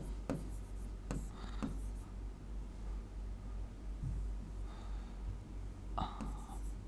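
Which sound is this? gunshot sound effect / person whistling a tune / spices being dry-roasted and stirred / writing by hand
writing by hand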